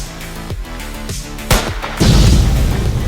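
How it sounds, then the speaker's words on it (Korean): A cartoonish bomb explosion sounds in a ball-drop video game as the failure effect: a sharp boom, then a loud, sustained crashing burst that fills the last second over a busy game-music background. "폭탄 소리 났고요"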